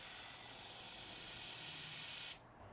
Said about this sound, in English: So now it says you want to invert the can and then spray it.